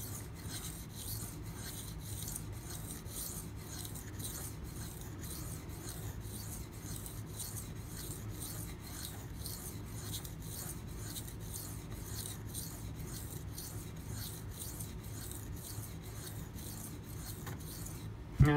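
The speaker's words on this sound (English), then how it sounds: "the last set of strokes I did was on this side of the knife." Steady rasping strokes of a kitchen knife drawn across a sharpening stone, repeating in an even rhythm at close range throughout, with no voices over it.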